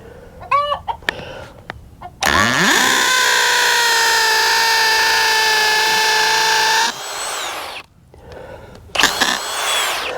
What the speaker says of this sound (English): It's just amazing how quick these new drills are